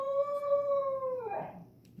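A beagle mix dog lets out a long, sustained indoor howl that holds steady before breaking into a rough, wavering trail-off, close and loud with no talking over it.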